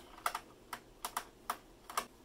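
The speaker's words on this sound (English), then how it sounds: "So let's go ahead and take those screws out." Corner screws come out of an Alienware Alpha mini PC: a quiet series of about eight crisp, close clicks in small pairs, spaced unevenly over two seconds.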